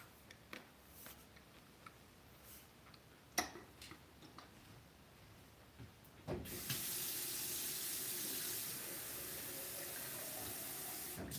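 A kitchen tap is turned on after a few scattered clicks and taps, and water then runs steadily and fairly loud into a sink for several seconds, with no talk.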